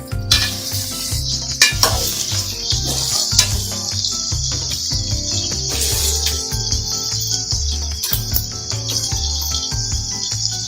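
Vegetables frying in oil for a Bengali vegetable dish, giving a steady bright sizzle with a rhythmic low thumping underneath throughout, and no talking.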